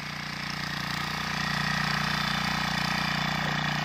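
A Trâu Vàng 2020 diesel tiller engine running in an abandoned field, a steady loud throbbing chug with a rhythmic mechanical pulse that holds constant and grows slightly louder, with no talk.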